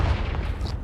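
A Confringo explosion spell bursts in Hogwarts Legacy, a short heavy boom with a deep low-end thump and a brief crackling tail, loud and close.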